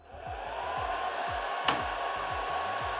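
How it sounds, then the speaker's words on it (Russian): An IKIER K1 Ultra laser engraver runs before its air compressor starts, giving a steady whirring fan noise with a rhythmic low pulsing underneath and one brief click near the middle. "Это пока только лазер шумит."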